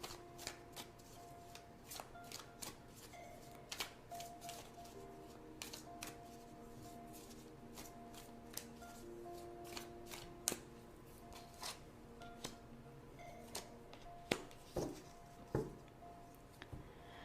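Tarot cards shuffled and drawn by hand, a soft continuous riffle of paper with scattered sharper card snaps and taps, close and quiet, with no talking.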